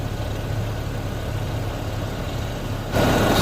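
A supercharged engine in a 2006 Hummer H3 with 131,000 miles idles with a steady low rumble, close by, growing louder and brighter near the end as it revs slightly.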